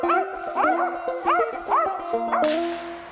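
Original mountain cur hunting dogs give a run of close, loud barks and yips in a quick uneven rhythm, about six bursts with whiny pitch bends, with no voices over them.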